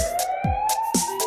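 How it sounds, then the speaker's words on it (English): A wailing emergency siren rises and falls repeatedly, loud and close, with a steady tone running underneath. "It's a siren, that's what it is."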